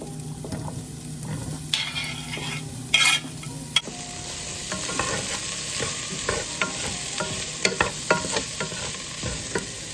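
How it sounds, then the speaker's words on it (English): Red onions, yellow onions and celery sizzle steadily in a hot pan, close and continuous, with a few sharp clinks and stirring scrapes from a utensil. "I got my red onions, yellow onions, and celery in here sauteing."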